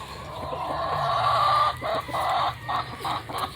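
Talisain gamefowl chickens cluck steadily on a farm, a dense run of close, overlapping hen and rooster calls with brief pauses between bursts and no talking.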